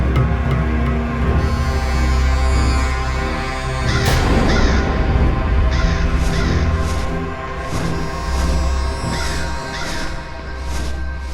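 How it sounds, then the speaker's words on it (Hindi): A crow caws repeatedly, loud and close, its harsh calls coming in quick bursts over a dense, busy background of music or ambience. "खोदा पहाड़ और निकला कौआ"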